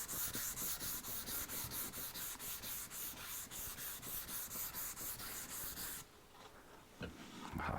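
Abrasive grit paper is rubbed by hand over a resin and wood piece in quick, rhythmic back-and-forth strokes, close and fairly loud, before stopping and leaving a few faint scrapes.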